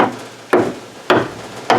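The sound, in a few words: hammering car body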